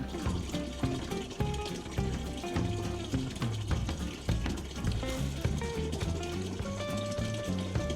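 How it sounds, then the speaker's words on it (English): Water running and draining outdoors at a rural French chateau, a steady gurgling flow with irregular splashy pulses throughout, fairly close and without talk. "Hey you, is the water draining?"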